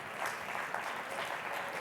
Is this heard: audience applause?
yes